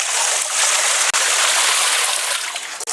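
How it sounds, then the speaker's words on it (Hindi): Water poured steadily onto cocopeat swelling in a large container, a continuous close rushing splash that stays loud for about three seconds with only a brief break. "मैं इसमें भी एक बार और आखिरी बार पानी डालूंगी"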